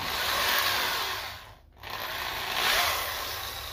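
A resin pen blank with a brass tube spins on a wood lathe, the cutting tool making a steady, close broadband whir and scrape that briefly drops out before resuming.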